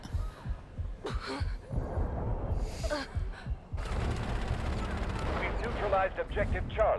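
Gunfire in the shooter game Delta Force, sharp reports bursting in quick clusters with a denser stretch of rapid shots toward the end, loud and close over a rumbling game backdrop with a voice at times.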